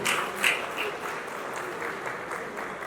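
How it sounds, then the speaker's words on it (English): Brief applause from an alumni association gathering honoring a member, a close burst of clapping that settles into a steady, even patter with no talking over it. "Please let us applaud him."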